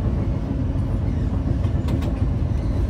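The Navajeevan Express, running from MGR Chennai Central to Ahmedabad, gives a steady, loud low rumble heard from on board, with faint clicks of the wheels on the rails and no voices.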